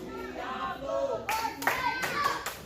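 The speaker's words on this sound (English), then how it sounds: "Now the crowd trying to rally behind El Diablo." A wrestling crowd at a KCXW show begins clapping to rally behind El Diablo, scattered hand claps turning into sharper, louder bursts toward the end, heard under excited shouting and commentary.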